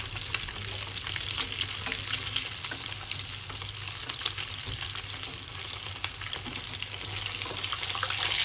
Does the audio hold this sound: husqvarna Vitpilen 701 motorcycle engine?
no